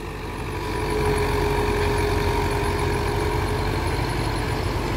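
A Solis Yanmar 5724 diesel tractor pulling a cultivator runs steadily nearby, its low engine drone holding constant and growing slightly louder after the first second, with no talking.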